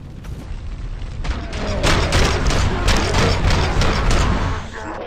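Thugs firing real bullets inside a video store in RoboCop: Rogue City: loud, dense rapid gunfire fusillade building after the first second and holding steady before tapering at the end.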